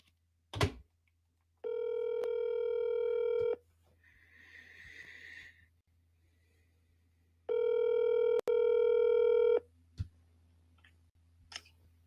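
An outgoing phone call to a realtor: a telephone line sounds two long, loud ringback tones separated by a pause, with a click at the start and faint handset noise between the rings.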